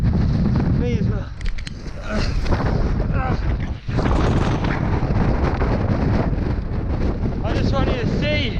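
Extreme wind roars and buffets the microphone on an exposed winter half-marathon fell race course, a loud continuous rush with gusts throughout and brief lulls, while voices are partly heard under it.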